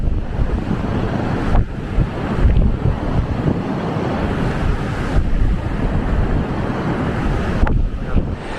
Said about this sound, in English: The second challenge I've got is it's blowing like stink out here.